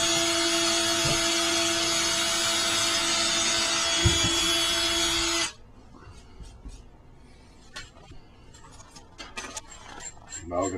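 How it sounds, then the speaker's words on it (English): An electric drill runs loud and steady, boring a pilot hole beneath a sink for a reverse osmosis install, then stops abruptly midway, leaving faint clicks and handling noises. "First, we're going to take our drill. We're going to drill a pilot hole."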